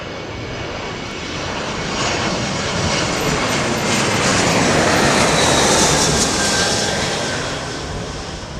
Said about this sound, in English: Yeah, you see the go around D-Bash.